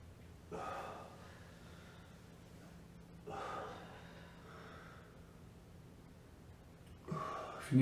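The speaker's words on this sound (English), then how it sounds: "Good controlled breathing." Slow, controlled breaths during a lower-body stretching routine, several soft exhales spaced a few seconds apart, close and fairly quiet with faint room hiss between them.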